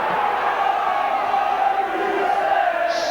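A St Helens rugby league crowd of about 7,000 roars at a match against Leeds, a broad, sustained cheer from all round the ground, loud and even throughout.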